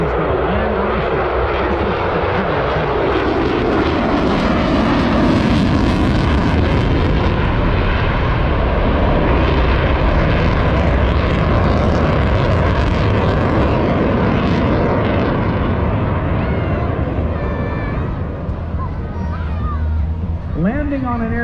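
An F-35 Lightning fighter jet banks sharply at the Jones Beach air show, making a loud, sustained jet roar that fills the whole span under a narrator's voice on the public address.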